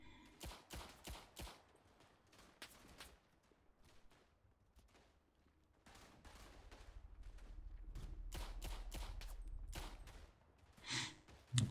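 Submachine gun fire in the WW1 shooter Verdun, several quick bursts of shots close together at the start, then a low rumbling stretch with more scattered bursts and a couple of louder cracks near the end.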